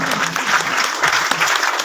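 Audience applause at an annual school results ceremony in Pakistan, a steady, dense burst of clapping from a crowd that carries on without a break for about two seconds.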